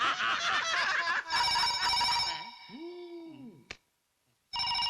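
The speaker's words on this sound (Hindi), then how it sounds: "अगर शंकर कलाल का फोन हो तो उसको बोल देना साहब राउंड अप पे गए हैं" A telephone at a police station rings repeatedly in bright electronic bursts, first mixed with loud voices and other sounds, then a short sliding tone and a sharp click, silence, and the ringing returning.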